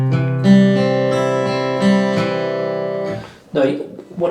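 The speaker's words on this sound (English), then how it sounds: "where you hold down your chord shape and pick through the strings" A beginner guitarist holds a chord shape and picks through the strings one at a time, producing a steady run of ringing, overlapping notes at close range, followed by a brief burst of softer strumming near the end.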